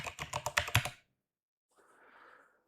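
A computer keyboard is typed on in a quick burst of close, crisp key clicks, then silence, followed by a faint softer rustle of keystrokes as a command is pasted and entered.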